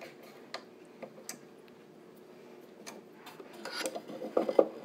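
A quiet wooden creak and rasp as a fitting is loosened on an antique cantilevered sewing box, with soft ticks and scrapes that grow into a brief burst of rubbing near the end.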